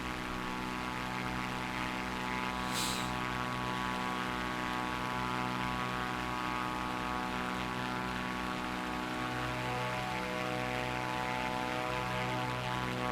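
A Cessna 400 propeller plane in Microsoft Flight Simulator drones at steady engine power, a loud, continuous harmonic hum with a faint rising whine toward the end and one brief hiss early on.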